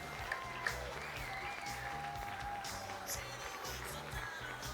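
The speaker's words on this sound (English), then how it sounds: "let's hear a round of applause for all these gentlemen." An audience at a beard and whiskers contest applauds in a steady, even wash of clapping that is moderately distant and continuous throughout.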